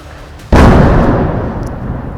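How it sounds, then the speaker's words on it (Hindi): A single heavy artillery blast from shelling near the Line of Control in Poonch erupts suddenly and loudly, then rolls on as a long, decaying rumble. "देखिए कितने नजदीक ये धमाके हो रहे हैं"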